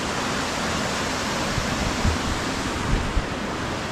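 Water pours steadily over an old wooden dam at an abandoned mill in Burrillville, Rhode Island, a dense, unbroken rushing roar, close and loud.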